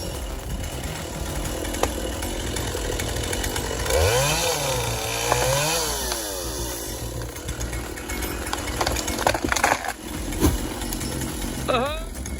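A John Deere 959 KII feller buncher with a Quadco 2.8C hot saw head cuts trees, its engine and saw droning continuously at moderate level with rising and falling whines as the head spins up and bites through wood.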